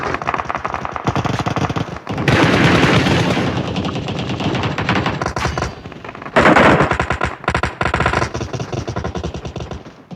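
Rapid automatic rifle fire from an M4 in PUBG Mobile, dense loud bursts of gunshots with brief gaps, sustained volleys repeating over several seconds.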